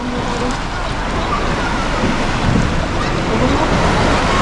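Strong sea water and waves at sea, heard from a fishing boat as a loud, steady wash of surf and wind noise throughout.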